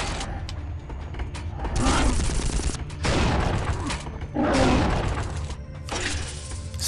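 Secondary fire from a weapon in the shooter Unreal II: The Awakening, several loud bursts of rapid, crashing gunfire separated by short pauses, with a voice in between.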